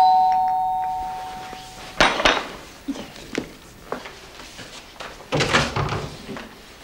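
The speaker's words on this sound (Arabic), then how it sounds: "ما بدهم يبطلوا العادة السيئة هي يطنوا الجرس ويهربوا" A two-tone doorbell chime rings at the start and fades, followed by a series of door knocks and clanks, rung by children playing a prank.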